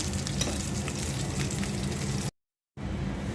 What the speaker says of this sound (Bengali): কয়েকটা বেগুনও ভেজে নিচ্ছি